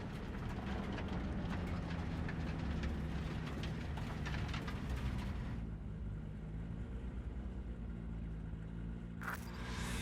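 Heavy low rumble and rolling roar of a train running in Cyberpunk 2077, loud and steady for most of the stretch before dropping to a quieter hum, with a brief sharp hiss near the end.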